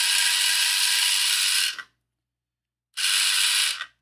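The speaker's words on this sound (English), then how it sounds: "I'm just a little bit curious how loud this motor is" A small electric motor inside a Fanhome E.T. the Extra-Terrestrial model head runs with no load, making a loud, harsh whirring buzz in two bursts separated by about a second of silence.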